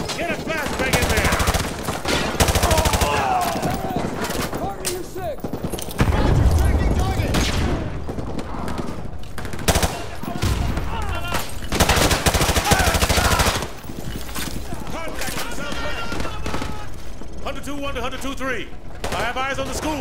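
Gunfire from the Call of Duty Modern Warfare 2 Remastered mission, with dense bursts of machine gun fire and explosions in a combat scene, mixed with shouted voices and game audio throughout.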